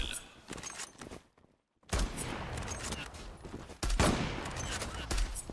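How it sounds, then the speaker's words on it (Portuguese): Gunfire in the video game Zula: dense bursts of shots rattle close and loud, break off briefly into near silence, then resume as heavy sustained firing with sharper impacts. "olha as balas que estão errando, velho"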